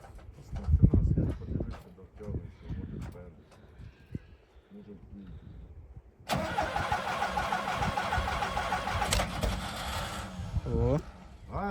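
An MTZ tractor engine cranks and catches on a cold day at minus 10, bursting into a loud, steady diesel rumble that runs on after a stretch of nearby talking and mechanical clatter.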